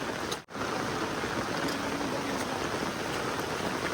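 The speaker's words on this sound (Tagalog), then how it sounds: "Walang tigil ang ulan." Steady rain falls as a continuous, even hiss, fairly close and unbroken except for a momentary dropout near the start.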